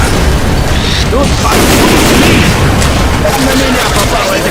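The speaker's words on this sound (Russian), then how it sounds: "Бросаю коктейль Молотова." Molotov cocktail thrown and bursting into flames in the game Left 4 Dead 2, a loud whooshing burst over dense, continuous combat noise and shouted voices.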